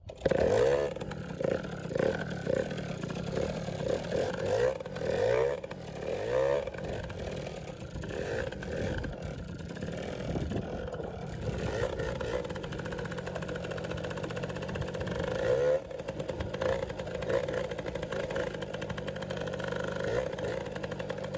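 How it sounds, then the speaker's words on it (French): MBK Magnum Racing XR moped with its tank full, its small two-stroke engine starting with pull-start rasps, then revving and running steadily nearby on a hot day, with scraping and clatter from rough off-road ground. "je monte sur la bécane, l'essence est ouverte, il y a le plein."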